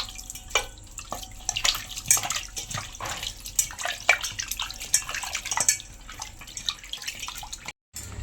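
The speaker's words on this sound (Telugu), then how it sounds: "ఇప్పుడు వీటిని శుభ్రంగా కడుక్కుందాం." Water splashes and sloshes in a sink as chicken leg pieces are washed by hand. Irregular dripping and swishing continues close up throughout, with a short silent gap near the end.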